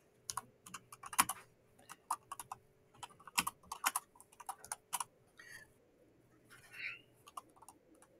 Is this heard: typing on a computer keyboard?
yes